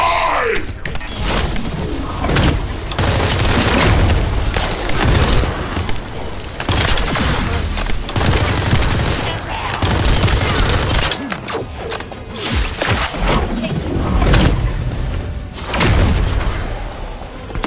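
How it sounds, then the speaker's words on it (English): Explosions and heavy weapon fire in The First Descendant game combat, a loud sustained barrage of booms and gunshots with repeated bursts throughout, dense and continuous with brief lulls. "Time to try out Lord Corell's gift to me. This precision bomb."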